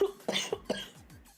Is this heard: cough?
yes